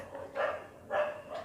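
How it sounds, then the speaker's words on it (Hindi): A dog barks three times at a moderate distance, evenly spaced and fairly faint, with quiet background between the barks. "कुत्ते भौंक रहे हैं"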